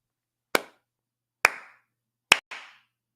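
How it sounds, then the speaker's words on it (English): Sharp hand claps ring out alone against silence, each with a short reverberant tail, spaced about a second apart, the last two following in quick succession. "A clap."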